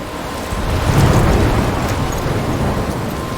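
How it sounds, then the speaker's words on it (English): A storm roars in the Life is Strange video game, with dense heavy rain and a deep rolling rumble of thunder swelling early and then holding as a loud continuous wash, with no speech. "I'm trapped in a storm?"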